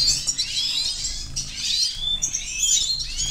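Siskins chirp and twitter in a breeding cage, a continuous run of bright, close bird calls with overlapping tweets and trills and faint low rustling underneath.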